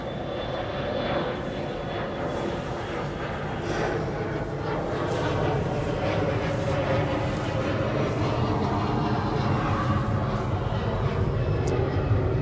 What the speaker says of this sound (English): One Delta plane pulling in and pushing out.